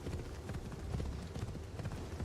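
Horse hooves clip-clop at a steady trot in the video game Assassin's Creed Shadows. The rapid, rhythmic thuds are fairly quiet and run continuously under a low background.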